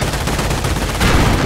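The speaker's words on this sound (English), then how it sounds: "The Panzer is able to fire more quickly." A Panzer tank in the video game Company of Heroes fires rapidly, a loud dense stream of gunfire bursts with a heavier blast near the end.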